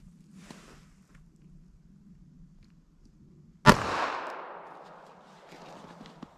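A single sharp, loud pistol shot from a .380 ACP firing Magtech JHP ammunition cracks out of near quiet and leaves a decaying outdoor echo, with only faint background noise before it.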